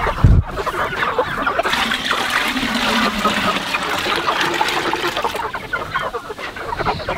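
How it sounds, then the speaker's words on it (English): Water gushes steadily into a bucket in a continuous rushing stream, with chickens clucking nearby on a homestead. "Because it's so hot, we're filling up that bucket and we're giving them this water also."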